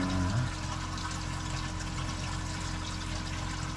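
Water runs steadily into the sump of an arowana aquarium during cleaning, a continuous close filling wash with a faint pump-like hum beneath it and no talk.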